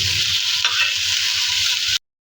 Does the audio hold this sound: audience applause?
no